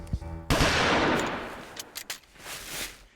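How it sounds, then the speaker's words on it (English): A single loud, close gunshot cracks out after a brief voice, its boom decaying over a second, followed by scattered clatter and a faint voice. "You shot that guy! You just shot that guy!"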